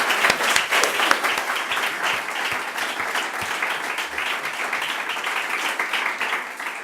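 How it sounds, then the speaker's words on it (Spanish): Dense, steady applause from an audience at a public commemorative event, many hands clapping loudly and continuously for several seconds without voices. "yo les pido un aplauso para nuestro profesor"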